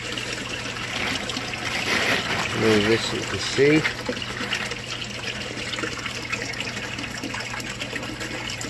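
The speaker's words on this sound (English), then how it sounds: "as the water overflows into the pipe, it drags the oxygen out, causes a vacuum at the top here" Water trickles and gurgles steadily as it overflows into a siphon pipe in a small modular aquaponics grow bed, with brief louder glugs partway through and someone talking over it.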